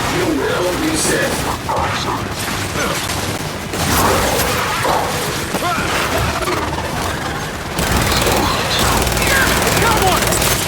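Sustained automatic gunfire and heavy bursts fill a Gears of War 5 three-player co-op firefight, loud and continuous with shifting intensity, while voices shout over the battle.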